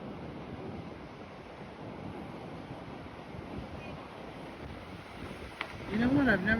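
Choppy sea waves roll onto a windy beach at Torremolinos in a steady rushing wash, mixed with gusty wind buffeting the microphone, a louder surge near the end.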